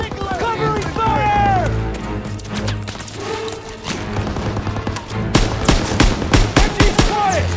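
Machine gun fire from an MG pillbox in Call of Duty: WWII, mixed with shouting voices and battle noise, then a loud run of rapid, close bursts toward the end.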